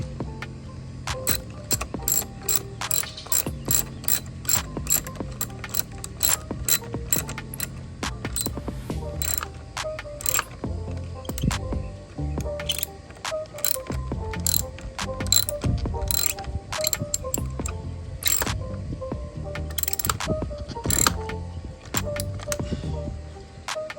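A ratchet tightens a battery terminal on a 2018-2022 Honda Accord with rapid, close clicking in repeated bursts, each run of fast pawl ticks followed by short pauses.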